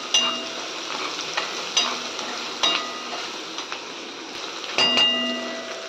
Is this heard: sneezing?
no